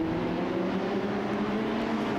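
Mini stock race cars roar around the Waterford Speedbowl oval, a steady dense engine drone from a distance with no break in the sound.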